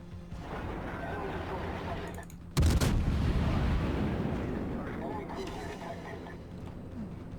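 Kutuzov cruiser in World of Warships firing high-explosive shells: a sharp, loud gun blast that booms and rolls into a long rumble, over constant battle noise and a talking voice.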